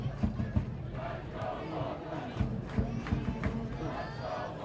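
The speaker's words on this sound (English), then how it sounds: "NC State has that great home crowd behind them here tonight" Home crowd at an NC State Wolfpack men's soccer match against Clemson, a steady distant roar of voices with swelling cheers and shouts, heard from afar in a stadium.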